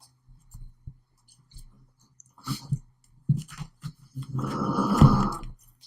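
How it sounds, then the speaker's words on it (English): Irregular snorts, clicks and wheezy breaths from a pug, building into a longer raspy snore near the end, close and fairly quiet. "If you hear snoring, that's my pug."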